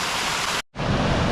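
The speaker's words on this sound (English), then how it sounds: "here we are at the big waterfall" A big waterfall on the Glen Branter loop walk roars as a steady, dense rush of falling water, briefly cut off for an instant before resuming just as loud.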